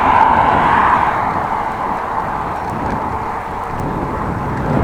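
Steady wind roar buffets a moving car driving the N360 road near Ten Post toward Groningen, a dense continuous rush with low rumble throughout and no talk.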